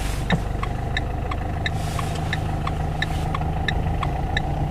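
A car engine idles steadily with a low, even hum during a hill start on a Turkish driving test, with a regular light ticking running alongside and no talking.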